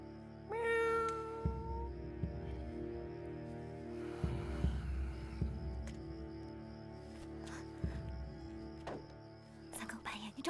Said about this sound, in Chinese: 是猫叫啊！